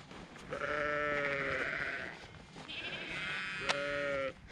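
Sheep bleating in lambing season on farmland by the Cornish coast: two long, wavering bleats one after another, moderately close, no one speaking.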